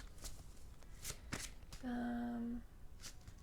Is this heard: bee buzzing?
no